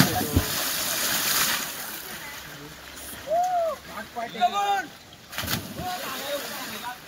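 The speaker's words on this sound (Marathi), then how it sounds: "पाण्याचा आवाज आला" River water splashes and sloshes as people swim, a few separate close splashes scattered among talk.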